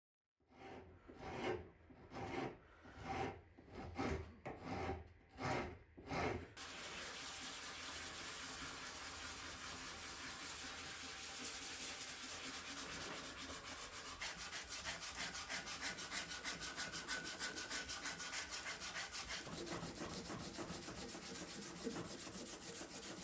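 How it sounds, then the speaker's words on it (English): A cherry wood mallet handle being sanded by hand with no power tools, heard first as about eight distinct rhythmic rasping strokes and then as a continuous close scratchy rubbing. "I made sure to constantly sand and check that I wasn't removing too much material."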